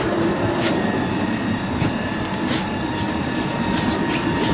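Steady rumbling of a Stockholm commuter train departing along the tracks, a broad continuous roar with faint rattles and occasional squeaks, fairly loud and constant.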